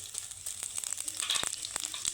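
Dry red chillies and five-spice seeds crackle faintly in hot oil with a little fish oil, a quiet sizzle dotted with small sharp pops over a couple of seconds.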